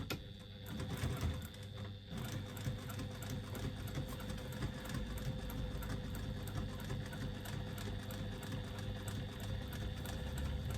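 A sewing machine stitches around an oval on a retro handle, a faint, continuous rapid mechanical chatter that runs evenly for about ten seconds with no talking.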